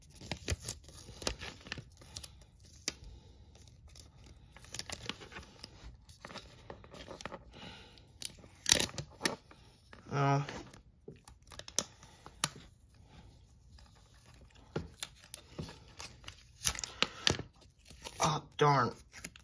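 A sticker is peeled and pressed onto a Disney Pixar Cars Glow Racers criss-cross glow race track set, giving short tearing and crinkling bursts. Quiet handling noises sit between them, and a person speaks now and then.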